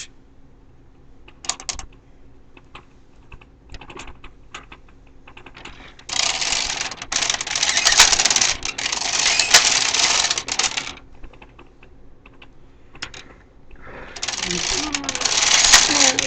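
A hand-operated knitting machine carriage knits rows of a baby lace sleeve with fine thread, its rattling, clacking passes coming in long bursts a few seconds each with quieter handling clicks between, close and loud, and a person talking at times.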